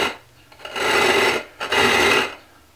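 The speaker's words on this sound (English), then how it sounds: "Now that's a really, really harsh sound there." Heavy weighted glass tool pushed across a telescope mirror blank with wet 36 grit abrasive, giving two long, harsh rasping strokes with a short pause between them, loud and close with no talk.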